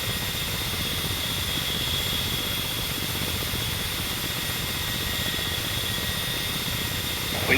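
Ka-50 coaxial helicopter in flight in the DCS combat flight simulator, a steady cockpit drone of turbine whine and rotor hum, constant and even throughout with no talking.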